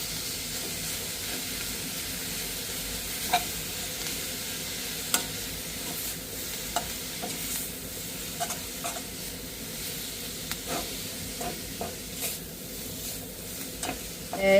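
Roasted spinach is stirred in a pan with a salt and turmeric mixture, giving a steady low sizzle and hiss under scattered sharp clicks and scrapes from the spoon, with no voices.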